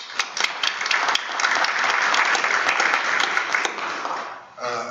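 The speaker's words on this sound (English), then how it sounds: "Again, round of applause for that group." Loud, steady round of applause from an audience at a school board meeting, sustained clapping for several seconds before fading out near the end.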